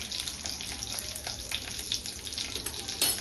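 Garlic, mustard seeds and red chilli sizzle in hot oil for a tadka, giving a steady bright crackling hiss with small pops, fairly close and uninterrupted.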